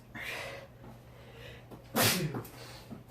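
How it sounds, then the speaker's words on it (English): A single sharp, loud sneeze bursts out about two-thirds of the way through, from a person standing outdoors, over a steady low background hum. "I sneezed for a third time"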